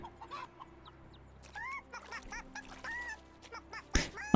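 Chickens cluck and squawk in a farmyard scene from the Medieval Dynasty survival game, a series of short, near clucks and rising calls over a low ambient hum, ending with a louder burst.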